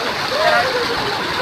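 Water splashing and rushing at Rayap waterfall in Kuta Makmur, a steady broadband wash of spray and flow, with people talking over it.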